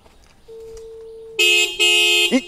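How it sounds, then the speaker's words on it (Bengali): A car horn blares twice close by, two loud sustained honks after a quieter tone, with a brief squeaky tail at the end. "ওই হর্ন দিচ্ছে।"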